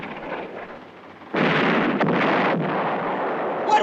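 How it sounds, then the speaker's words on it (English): Artillery fire aimed at a ship in a film scene booms out as a loud, sustained roar that erupts abruptly after a quieter stretch, with a brief sharp crack in the middle and no talking. "Somebody's firing at us."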